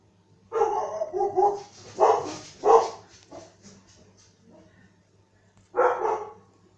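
Dogs inside a house, one of four kept there, let out a few loud barks in a burst, go quiet, then bark once more close by.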